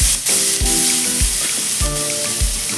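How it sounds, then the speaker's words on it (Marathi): Green chili paste sizzles steadily as it is sautéed in a pan over low heat, with a continuous frying hiss and several clear stirring knocks of a spoon against the pan, no voices. "मिरचीचं वाटण असं छान असं परतून घेऊया।"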